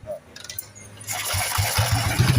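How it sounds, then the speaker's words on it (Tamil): An old BSA motorcycle from Jaffna catches on a single kick-start with the compressor lever held, its engine bursting into a loud, throbbing idle after a second of quiet shuffling. "ஒரு அடியில் ஸ்டார்ட் சவுண்டை பாருங்க. பிஎஸ்ஐ சைக்கிள் பற்றிய சவுண்ட்"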